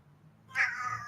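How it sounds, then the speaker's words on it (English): A single long cat meow blending into a yawn, starting partway through and drawn out to the end, fairly close over a low background hum. "Or I love the long combination meow yawn."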